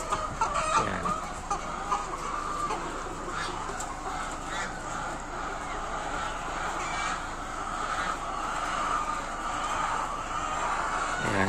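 Flock of layer hens clucking and squawking in agitation as a person moves among them in the poultry house, a continuous dense chorus of overlapping calls, near and fairly loud throughout.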